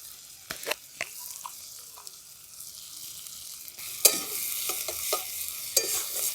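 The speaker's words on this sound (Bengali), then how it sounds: "দেখুন পেঁয়াজগুলো লাল লাল করে ভাজা হয়ে গেছে" Onions fry in a pan with a soft sizzle, interrupted by several sharp spatula scrapes and taps, sparse at first and then livelier as stirring picks up.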